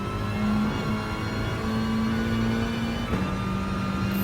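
A VW Scirocco Gr.4 race car engine in Gran Turismo Sport drones at a steady pitch at Dragon Trail Seaside, revving slightly and shifting tone near the end, loud and continuous with no talking.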